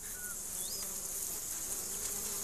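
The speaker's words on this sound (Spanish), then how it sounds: "las moscas pican y le impiden pensar" Flies buzz continuously close by, a steady insect drone with a few brief high whines passing over it, with no voices.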